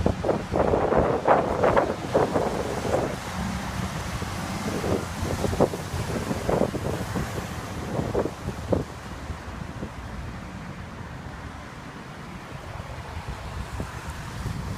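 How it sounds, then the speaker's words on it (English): Strong gusting wind of a severe thunderstorm in Libertyville near Chicago, roaring and buffeting the microphone in a loud, continuous rush with rising and falling gusts. "Alright, here comes the wind."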